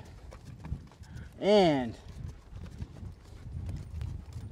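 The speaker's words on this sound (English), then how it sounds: "I'm prepared, I'm riding a horse" Hooves of a ridden horse clip-clop steadily across pasture ground, with a close voice speaking over the steps and a short whinny partway through.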